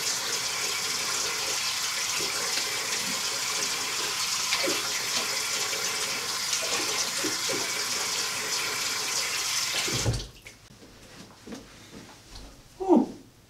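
A tap runs cold water in a steady, close stream for about ten seconds while rinsing a face after shaving, then shuts off, followed by a few soft splashes of water.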